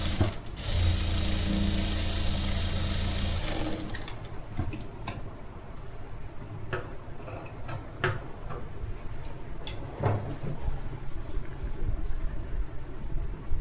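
A sewing machine stitches a blouse in a rapid mechanical run that stops after a few seconds. Scattered clicks and handling taps follow, close and fairly quiet.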